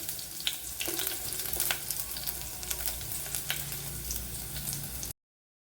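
Small shallots fry in hot oil in a pan for Kerala-style moru rasam, a close, steady crackling sizzle with scattered sharp pops and a few stirring scrapes, no voices, ending abruptly.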